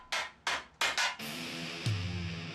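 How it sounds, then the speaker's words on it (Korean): Hammers strike a silver sheet being shaped into a silver kettle: four crisp metallic blows at uneven intervals, then a faint ringing tone and one more light tap. Close and fairly quiet. "다양한 망치를 바꿔가며 은판을 두드려 조금씩 모양을 잡아갑니다"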